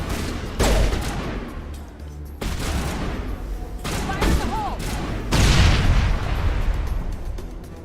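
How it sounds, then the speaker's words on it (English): Grenade blasts and rapid gunfire crash through a firefight in the Mass Effect video game, with several loud booming bursts spread across the stretch and dense, continuous shooting between them. "Hey, I actually hit a grenade."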